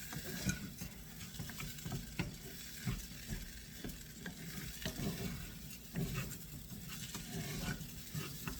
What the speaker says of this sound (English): Now I'm stirring this around, coating all the rice grains